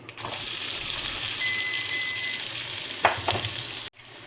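Potatoes frying in a little oil with two dried chillies and a bay leaf, a loud steady sizzle close by, with a couple of stirring clatters near the end before it cuts off.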